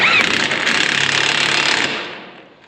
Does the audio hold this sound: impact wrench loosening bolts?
yes